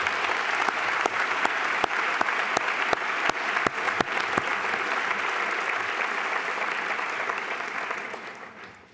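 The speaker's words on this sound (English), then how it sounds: "can we please give one more round of applause to Dr. Rachel Erickson" A large audience at MIT's annual Martin Luther King celebration applauds Dr. Rachel Erickson, a full sustained wash of clapping with some sharp distinct claps near the front, gradually fading at the end.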